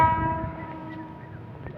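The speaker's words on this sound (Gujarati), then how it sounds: "ફાઇનલ એવો ટ્રેન છે પાવો સંભળાય છે" A train horn sounds with a sustained, tonal blare that slowly fades, heard alone over a low rumble.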